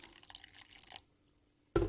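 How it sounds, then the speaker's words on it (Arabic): A short splash of warm water is poured into a bowl of yeast and sugar, a brief loud liquid burst near the end after a quiet stretch with faint kitchen noise. "احط بقى حبة مية عليها"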